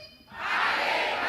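An audience at a Banten provincial health office gathering shouts a loud morning cheer chant in unison, the crowd's roar rising sharply after a brief lull and holding strong.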